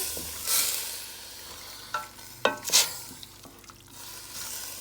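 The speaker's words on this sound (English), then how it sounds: "So we're gonna mix all the ingredients up together." Ingredients for a green papaya stew with shrimp are stirred in a pot, soft scraping strokes and a few clinks over a faint steady sizzle, close and quiet.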